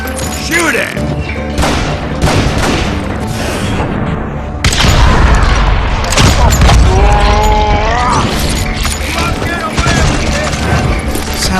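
Gunfire in the Western video game Call of Juarez Gunslinger comes as dense volleys of shots and booming impacts layered over a music score. A voice speaks intermittently between the bursts.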